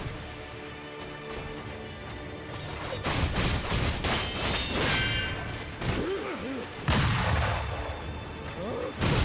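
Enemy gunners fire repeatedly in Sekiro: Shadows Die Twice, heavy cracking shots and booms scattered across a busy game soundscape with impacts and clatter, some blasts loud and close.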